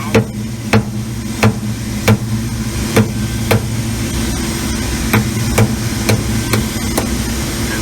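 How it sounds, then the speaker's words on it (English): Sharp, evenly spaced hammer blows strike a socket to drive a worn front bushing out of a Highland Park lapidary saw, about a dozen metallic knocks ringing over a steady low machine hum. "we'll hit it, and we're just going to tap that bushing out"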